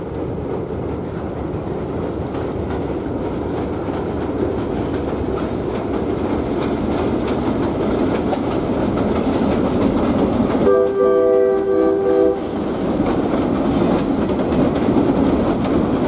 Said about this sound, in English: still pretty cool to see an old GP9 RM going over an old bridge